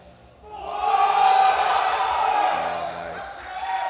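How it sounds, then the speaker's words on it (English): A crowd at a world classic powerlifting championship session roars and yells to urge on a lifter, swelling to a loud, sustained mass of voices and then gradually easing, with a commentator's voice present. "Team Malta is very, very intense, very noisy, cheering their lifter up"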